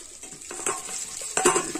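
A spatula stirs taro chunks with spices in a hot pan, soft scraping strokes over a light steady sizzle, close and uninterrupted by talk.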